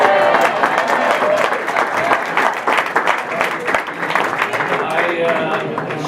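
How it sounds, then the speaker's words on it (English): Audience applause with some cheering at a chamber of commerce annual meeting, a dense, steady wash of clapping that holds loud and close for the whole stretch with no talk over it. "Let's give her a big cheer."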